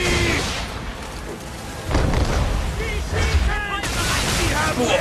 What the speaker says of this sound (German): Breitseite abgeben! Boom, das hat gesessen.